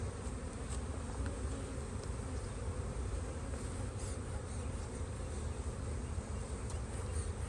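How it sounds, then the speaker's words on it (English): A dense, steady drone of honey bees fills the air around an open, full brood box during a spring hive inspection, close and unbroken with no voices. "Look at that box of bees."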